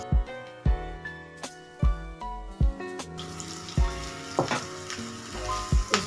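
Okra goes into cooking oil in a frying pan: several sharp knocks and clatters, then a steady, hissing sizzle that rises and keeps going beneath more pan clinks.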